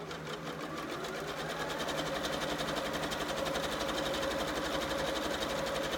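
Close, continuous whir of a sewing machine stitching a test seam in polyester thread during a tension adjustment, running at an even speed throughout with no talking.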